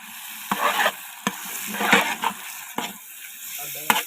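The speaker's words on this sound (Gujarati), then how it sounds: "કાજુ બદામ હલ્દી મસાલા બધું મિક્સ કરી નાખ્યું છે" A spoon stirs a green turmeric curry with cashews, almonds and spices in a pan. Soft scraping strokes come in irregular bursts over a low sizzle, close and moderately loud.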